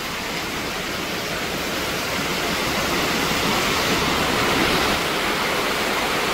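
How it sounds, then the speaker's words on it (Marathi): Rainwater flows back out of a drain into a flooded Ganpati idol-maker's workshop, making a loud, continuous rushing wash like a stream that swells slightly partway through. "पाण्याचा फ्लो बघा, पाणी यायला लागलं."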